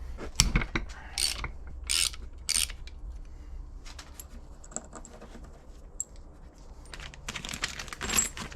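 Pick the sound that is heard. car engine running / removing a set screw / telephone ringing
removing a set screw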